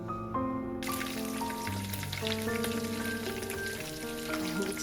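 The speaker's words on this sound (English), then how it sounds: "My meat is frying and it's popping the oil everywhere" Steady sizzling of meat frying in hot oil, with scattered crackles and pops, heard up close while faint music plays in the background.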